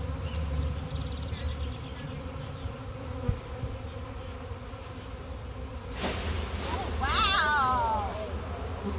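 A honey bee swarm hums in a steady buzzing drone as the bees are shaken off outdoors, with a brief thump partway through and a rising burst of noise near the end.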